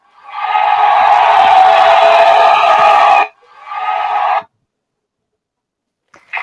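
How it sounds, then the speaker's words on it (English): An indoor audience at a food safety training event gives a loud burst of applause and cheering for about three seconds, then a shorter second round, then silence. "Let us give you a round of applause"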